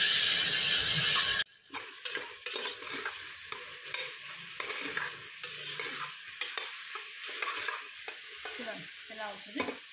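Cashews and ginger garlic paste fry in a pan, a loud sizzle that drops suddenly as the paste goes in, followed by steady soft sizzling and repeated scraping stirs of a spoon.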